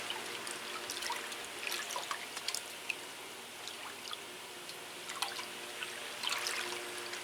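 Bleach solution is stirred in water, giving quiet sloshing, dripping and small splashes that come in soft irregular bursts close by, with no talking.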